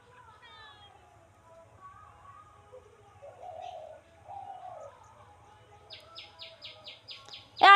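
A morning bird, likely a pigeon or dove, gives soft cooing and brief chirps at moderate distance over faint low hum, ending in a quick run of sharp repeated notes and a loud final burst.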